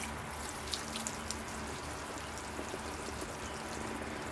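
Water poured over a potted bonsai tree, a steady broadband splashing and trickling wash with faint drips that runs evenly throughout with no voices.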